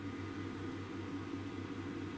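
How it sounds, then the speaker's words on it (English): A domestic boiler runs steadily while heating water, giving a low, continuous hum and rushing drone with a faint pulsing throb, heard alone and at a low, even level. "I do apologise about the noise from the boiler, but it's just kicked in to heat the water up"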